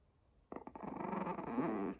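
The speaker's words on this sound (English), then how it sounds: "So who are you growling at?" A dog growls steadily and up close for about a second and a half after a brief quiet start, a low continuous rumble with a slightly whiny edge and no talking over it.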